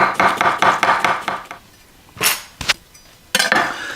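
A knife chops rhythmically through cabbage on a board in quick steady strokes, then pauses, followed by a few isolated knocks and a final scrape.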